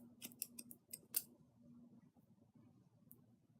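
Scissors point-cut into wig hair, a series of short crisp snips clustered in the first second or so, then sparser, close up and fairly quiet with no talking.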